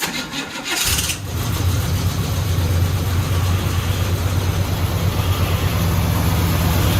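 The engine of a 1972 Chevy Cheyenne C20 truck that had sat for 16 years cranks briefly, catches and settles into a loud, steady, rumbling run close by.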